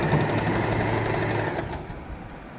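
A sewing machine runs steadily, stitching the belt onto a kids' dhoti, its close, even hum fading out near the end.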